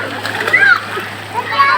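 Water splashing as a child swims at a holiday spot, light close splatter under a child's and others' voices talking throughout.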